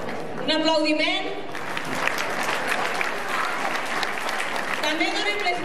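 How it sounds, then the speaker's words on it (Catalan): Applause from the audience at a fashion show held during the olive oil and asparagus fair in Godall, a dense burst under an amplified announcer's voice speaking at the start and end. "Un aplaudiment."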